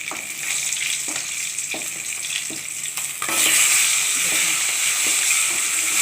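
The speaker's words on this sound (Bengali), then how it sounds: "মাছটা কিন্তু খুব ভালো করেই ভাজতে হবে" Fish sizzles steadily in hot oil in a pan, with a dense crackling hiss that grows louder partway through and a few soft scraping stirs.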